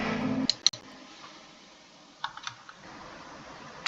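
Computer keyboard tapped during a Minecraft survival game, a few sharp close clicks early on, then a scattered cluster of lighter key taps, over a faint steady background hum.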